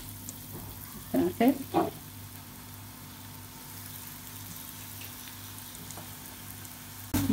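Onions frying in hot oil over a medium-high flame for Egyptian koshari, a steady sizzle with a few louder stirring scrapes, under brief speech.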